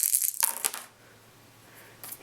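Dice tumbling and clattering onto a board game table, a few quick sharp rattles followed by quiet, then another brief click near the end.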